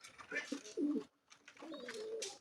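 Domestic pigeons coo in soft, rounded bursts at close range, two phrases separated by a short pause, with no talk over them.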